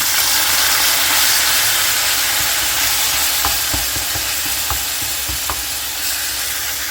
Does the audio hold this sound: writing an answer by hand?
no